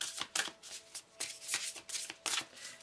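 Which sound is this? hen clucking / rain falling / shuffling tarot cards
shuffling tarot cards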